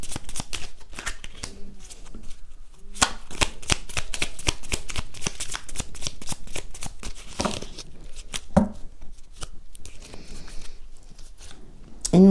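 Oracle cards shuffled by hand nearby make continuous flicking, riffling rustles in quick irregular bursts that run throughout, with a faint voice now and then.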